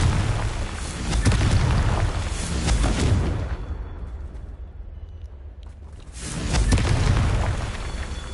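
Confringo spell blasts in the Hogwarts Legacy video game, loud booming explosions with rumbling decay, a quieter lull in the middle, then another heavy burst near the end.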